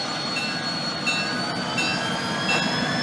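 Great Northern 400 steam locomotive train rolling through a level crossing, a steady loud rumble of rail cars and wheels with faint high squeals running continuously, close by.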